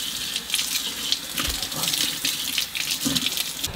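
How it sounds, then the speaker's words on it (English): Water from a hose runs in a steady, continuous gush, close and fairly loud, with small shifts as the spray moves, while an animal is rinsed off outdoors. "Now I just have to hose him off a little bit."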